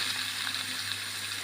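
Cut ash gourd sautéing in a hot pan for Kerala olan gives a soft, even frying hiss that runs continuously at moderate volume.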